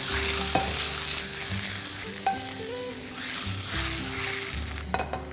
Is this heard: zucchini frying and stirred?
yes